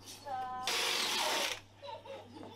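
A power drill whirs loudly for about a second in a single burst, drilling holes for a homemade toy elevator, with brief voices just before and faint talk after.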